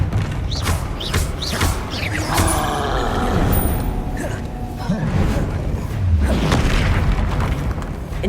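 Confringo explosive spells burst repeatedly during Hogwarts Legacy combat, a series of booming blasts and whooshing impacts layered over steady game noise, loud and continuous with several distinct hits.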